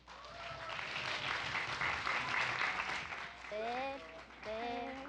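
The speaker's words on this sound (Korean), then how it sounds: "힘찬 박수로 맞아주시기 바랍니다." Loud, steady applause from an audience welcoming a high school team at a regional student competition, filling the space for several seconds, with a few brief melodic whoops or cheers near the end.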